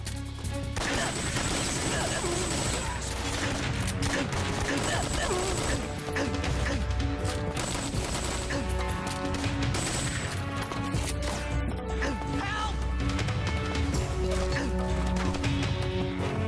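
Gunfire from a Metal Gear Solid 3: Snake Eater firefight, dense bursts and shots packed together over a loud, busy mix of game sounds and music, with voices breaking in now and then.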